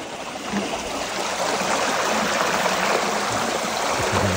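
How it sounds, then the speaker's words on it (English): A small trout stream at Laurel Fork flows under a bridge, a steady, close rush of water with a soft babbling texture and no talk over it. "another really cool bridge over a nice little trout stream"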